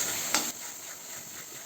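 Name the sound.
stirring onion-coconut paste into mutton curry on low gas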